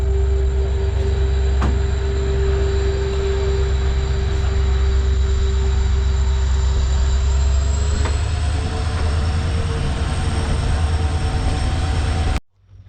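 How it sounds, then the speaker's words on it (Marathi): Dadar–Sawantwadi Express passenger train running at steady speed, a loud continuous rumble with a sustained whine and faint rail clatter throughout, ending abruptly. "ही ट्रेन चालू झाली आपली"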